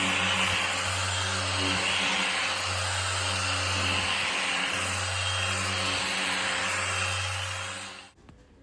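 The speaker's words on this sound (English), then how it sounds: "right here, I'm just blowing it off with a leaf blower" A leaf blower blows debris off the rust-treated roof of a classic car, a loud, steady motor roar with a pulsing low drone that cuts off abruptly near the end.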